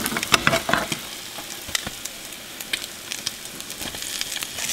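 French toast sizzling and frying in a pan, a steady crackling hiss with frequent sharp pops and spatters, close and continuous with no talk.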